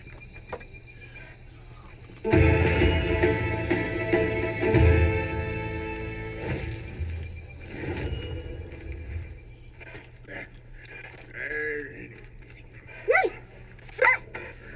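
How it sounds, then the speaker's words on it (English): A dog at a live show makes close, loud vocal sounds, yips and whimper-like cries, in a burst a couple of seconds in, then quieter stretches with a few short sharp calls near the end; no clear talk. "Is that your dog?"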